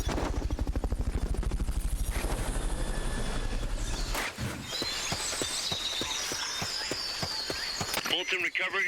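A recovery helicopter in Metal Gear Solid: Peace Walker thrums with a steady rotor chop that fades after a few seconds, followed by scattered clatter, electronic tones and game effects.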